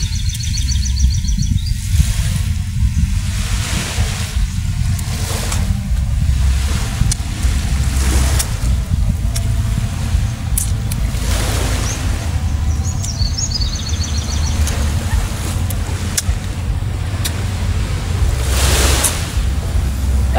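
Ocean waves wash steadily at the seaside under a low rumble of wind, with faint bird calls now and then over the continuous surf.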